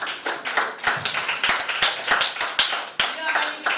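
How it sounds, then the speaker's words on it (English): A small audience at a children's and teens' tech day claps for a young presenter, steady close hand claps with a loose, even rhythm throughout. "A round of applause for Olivia"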